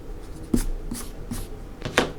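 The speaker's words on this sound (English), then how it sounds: "use your eraser here and you can erase some of that a little bit." An eraser rubs over pencil lines on drawing paper in a few short scrubbing strokes with small taps between them, soft and close, with no voices.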